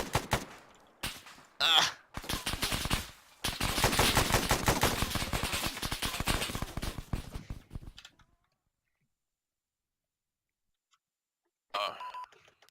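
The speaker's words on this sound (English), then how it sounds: "I'm gonna fire off a few rounds." Gunfire in the video game Arma 3, beginning with a few separate loud shots and then a long rapid automatic burst. A short exclamation comes near the start, a long silence follows, and a brief electronic beep closes it.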